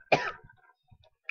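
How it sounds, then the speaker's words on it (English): A single throat-clearing cough bursts out close and loud, followed by a few faint breathy after-sounds and a short click, with no talking. "I'm very sorry for how I'm coughing in this video."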